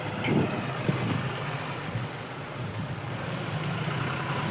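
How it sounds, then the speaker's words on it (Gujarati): A thresher running alongside a tractor on a farm, a steady droning engine and machinery hum with a constant mechanical rattle, moderately loud and unbroken throughout. "ઠેસર ચાલુ થઈ ગયું છે"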